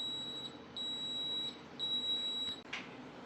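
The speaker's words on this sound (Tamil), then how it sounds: "இந்த பீப் சவுண்ட் வந்துருச்சு அப்படின்னா நமக்கு சூப் ரெடி ஆயிடுச்சுன்னு அர்த்தம்." An electronic soup maker signals that an oats and vegetable soup is ready with a few sharp, high beeps in short bursts over a quiet kitchen background, followed by a brief click.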